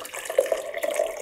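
A short, soft pour of water onto iron powder, trickling and splashing gently for about a second.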